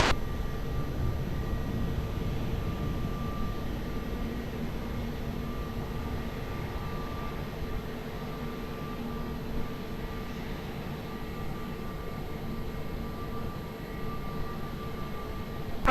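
A plane lands on runway 20 at Lisbon Airport, its steady broadband jet roar heard from a distance with a continuous, even rumble that barely rises or falls, no voices over it.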